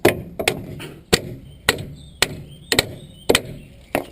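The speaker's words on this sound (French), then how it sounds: "Et là, on va tapoter avec la massette" A mallet tapping a nut to drive a bolt out of a car's lower control arm, about a dozen sharp metallic knocks at an uneven pace, close and clear with no talk.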